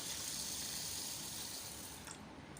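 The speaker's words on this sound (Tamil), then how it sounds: "இப்போ இதில் வந்து நம்ம தண்ணி ஆட் பண்ணலாம் நல்லா இது மூழ்கிற அளவுக்கு நம்ம வந்து தண்ணி சேர்த்துக்கலாம்" Water pours steadily into a bowl of ingredients in a kitchen, a soft continuous splashing hiss that tapers off near the end.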